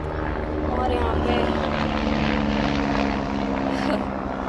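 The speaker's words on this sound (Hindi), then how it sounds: "हेलीकॉप्टर जा रहा है।" Helicopter flying overhead in a city residential area, a loud continuous rotor and engine drone that swells and fades slightly over several seconds, with no voices during it.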